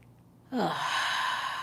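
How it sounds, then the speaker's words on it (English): A single deep, audible breath, quiet at first and then a long, steady airy exhale that carries on loud and close, taken during a restorative yoga session. "we might start with a couple of deep breaths, maybe in through the nose, out through the mouth"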